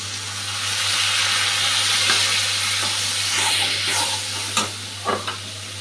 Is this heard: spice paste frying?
yes